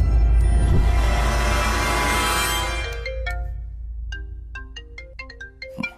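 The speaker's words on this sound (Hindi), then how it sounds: "केपी का फोन है, उठाओ ना" A phone ringtone plays loudly, a sustained electronic melody that fades into a run of short, bright repeating chime notes.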